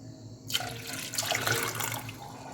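Water poured into a steel pot of eggs starts abruptly and then runs in a continuous splashing, gurgling stream, close and fairly loud, without speech.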